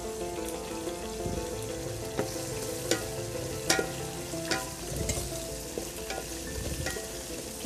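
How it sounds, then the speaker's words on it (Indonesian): Okra stalks fry with eggplant in a pot for a vegetarian fish curry, a busy, close sizzle broken by scattered crackles and pops, with no talk. "Okey, biar kelo masak dulu."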